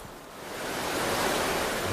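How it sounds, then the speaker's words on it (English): Broad gushing rush of a waterfall upstream in a Great Bear forest river, a dense continuous roar swelling slightly louder after the first half second, with no voices. "The gushing waterfall further upstream seems insurmountable."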